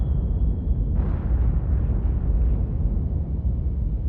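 Torpedoes and depth charges exploding underwater in the submarine game Cold Waters, a deep rumbling blast that swells after a second and rolls on as a continuous low churning roar.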